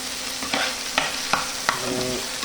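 Dried fish (shutki) frying in a pan, a steady close sizzle broken by several sharp stirring scrapes and clicks at regular intervals.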